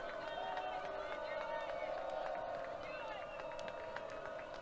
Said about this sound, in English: Deacons fans are on their feet right now,